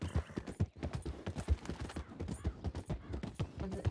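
Horse hooves clip-clop at a steady riding pace in the Red Dead RP video game, close and fairly loud, with regular beats running throughout.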